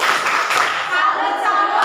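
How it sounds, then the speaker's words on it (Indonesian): Classroom of Indonesian high school students clapping together in a brisk patterned 'tepuk salut' routine, with voices chanting along over the claps at close range. "Oke, tepuk salut untuk mereka."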